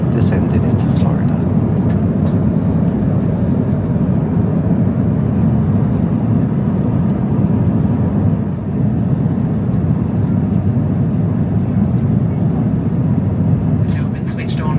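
Steady loud roar of an airliner cabin during descent toward Orlando, Florida, a constant engine and air rumble filling the whole stretch with no breaks.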